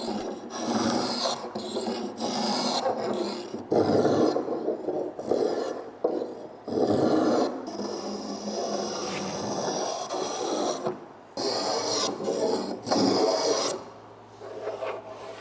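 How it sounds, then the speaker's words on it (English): Hand tools shaping an edge profile on a wooden tabletop in a workshop: repeated rasping, scraping strokes in a steady back-and-forth rhythm, close and fairly loud, with brief pauses between passes and no talk. "Forming an edge profile by hand takes some finessing."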